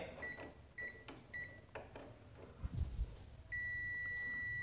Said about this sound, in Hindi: बज़र बज रहा है दैट मीन्स क्या है आपका ये ग्लास फ्यूज़ ओके है